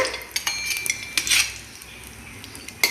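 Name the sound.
cashews sautéed in ghee, stirred in a pan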